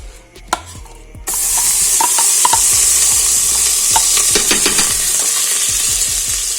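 A few clicks and a light clatter, then a loud, steady sizzle of onions frying in butter in a pressure cooker, with stirring and scraping knocks through it.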